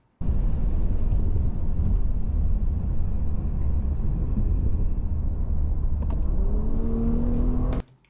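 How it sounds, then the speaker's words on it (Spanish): Bentley W12 engine pulling hard from 100 km/h on the Autobahn, a loud continuous roar with wind and road noise, a rising tone building late before cutting off abruptly. "Yo creo que escuchéis un poquito el sonido del motor como empuja"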